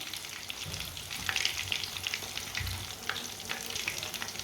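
Fish frying Punjabi style in a pan with a little oil spooned over, a dense continuous crackling sizzle with a few low thumps, close and steady, no talking.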